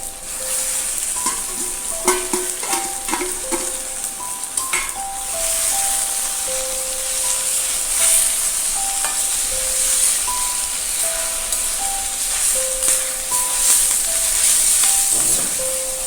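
Onions and drumstick leaves fry in a pan for a stir-fry, a steady loud sizzle and hiss running throughout, with repeated scraping and clinks of a spatula stirring, especially early on.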